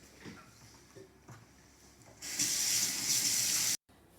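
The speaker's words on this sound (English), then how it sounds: "the first thing we need to do is wash our hands" Hands are washed under a running kitchen tap, a steady, fairly loud gush of water that starts abruptly after quiet handling noises and cuts off cleanly about a second and a half later.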